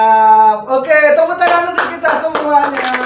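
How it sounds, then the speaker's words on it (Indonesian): A group claps hands in quick bursts over a loud singing voice during a children's classroom song, the claps sharp and close against the sustained tune. "Oke, tepuk tangan untuk kita semua"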